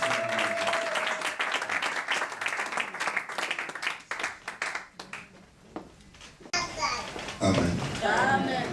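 A church congregation bursts into applause and cheering, a dense wash of clapping hands with voices mixed in, followed by a short lull and renewed clapping and shouts.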